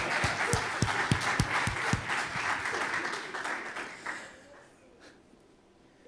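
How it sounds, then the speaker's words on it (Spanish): Congregation clapping during a Spanish-language church service, starting with a few loud distinct claps before swelling into brief applause that fades away into quiet. "Dale un fuerte aplauso al Señor."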